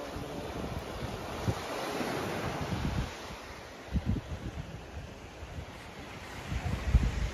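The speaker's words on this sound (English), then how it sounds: "We're on the beach! Say hi! Solo namin. Long Beach." Ocean surf rolls in at Long Beach, San Vicente, Palawan, a continuous washing roar with gusts of wind buffeting the microphone, and no voices.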